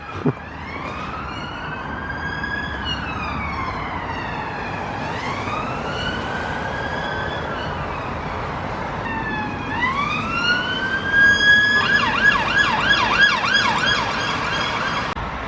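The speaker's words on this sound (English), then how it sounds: "Another siren." An emergency vehicle siren wails up and down nearby, rising and falling repeatedly, then switches to a faster warbling pattern over steady road noise.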